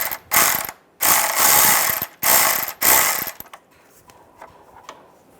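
A hand ratchet snugs down a bolt on the radiator cooling fan assembly of a Volkswagen Beetle, giving four loud, close bursts of rapid clicking with short pauses between them, followed by quieter scattered clicks.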